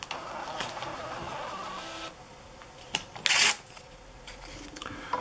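A small printer attached to a tiny computer prints out a program listing with a whirring mechanical rattle, short pauses and a sharp louder burst midway, fairly close and without talk.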